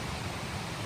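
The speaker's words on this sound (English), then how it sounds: "Get the white noise of the river in the background." A river on the PCT near the Suiattle River flows in the background, a steady, even hiss of rushing water with no other sounds.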